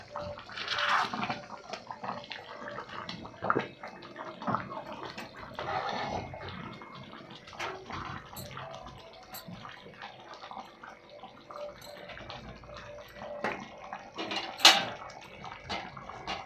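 Broken-egg curry simmers in a pot, giving a steady low bubbling and soft watery sputtering, close and moderately quiet, with occasional sharper pops and no talking.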